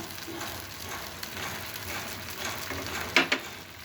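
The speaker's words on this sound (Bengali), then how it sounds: "এখন আমি এগুলিকে একটু কষিয়ে নেব" Cumin and cardamom powders, ginger-garlic paste, bay leaves, cinnamon, cloves and salt sauté in hot oil for a bitter gourd chicken curry, giving a soft, steady sizzle with a couple of sharper stirring knocks near the end.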